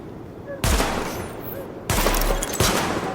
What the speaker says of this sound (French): Lancement du test de l'armement. Tirez sur les cibles en surbrillance.